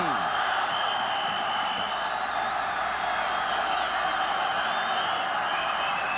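A large stadium crowd at the 1971 Rose Bowl college football game between Ohio State and Stanford sends up a steady, broad roar, with a commentator talking over it.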